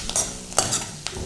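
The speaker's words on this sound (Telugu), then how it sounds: "కరివేపాకు కూడా యాడ్ చేసి ఒకసారి మనం స్టిర్ చేద్దాం." Curry leaves are stirred into hot tempering oil for a pumpkin dappalam, with a few quick scraping strokes of a spoon over a soft sizzle, close and moderately loud, no voices.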